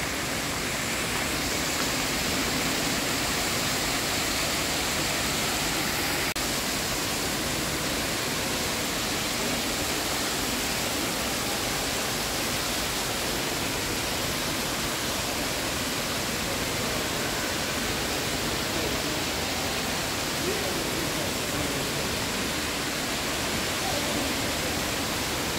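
Indoor water feature at City Centre Mall in Doha, Qatar, produces a constant, dense rush of flowing water that stays loud and unchanging throughout.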